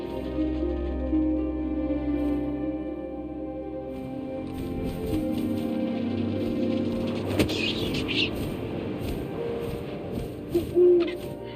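Owl hooting in the game What Remains of Edith Finch, with low, sustained hoots over a steady droning bed, then rustling, fluttering movement toward the end.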